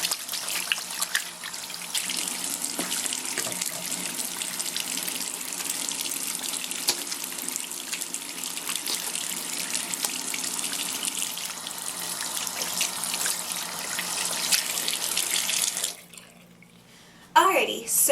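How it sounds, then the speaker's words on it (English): Hands washed under a running tap at a sink, a steady close hiss of flowing water that stops abruptly near the end, with a brief clatter right after. "the first thing you're going to do is wash your hands"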